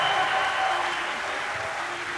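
Esports crowd at The International 2015 Dota 2 main event applauding Evil Geniuses, a steady wash of clapping and cheering from a large arena audience that holds even throughout.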